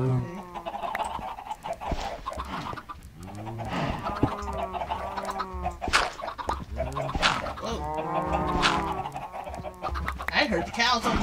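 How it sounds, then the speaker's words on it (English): Minecraft chickens cluck and squawk over and over, a busy, fairly loud run of close bird calls with several overlapping cries, mixed with voices talking. "You hear... The chickens."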